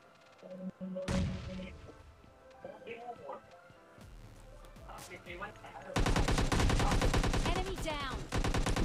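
Bursts of rapid gunfire and single shots in the video game PUBG Mobile Lite, growing into heavy continuous automatic fire toward the end, with a voice heard among the shots.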